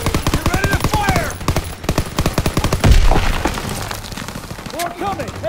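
Rapid machine gun fire rattles in Call of Duty WW2 combat, a fast regular stream of close, loud shots with a heavy boom midway, while soldiers shout over it.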